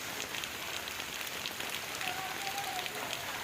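Heavy rain falls on streets in Dwarka, Gujarat, a steady close hiss of rain on surfaces with no pauses and a faint tone underneath.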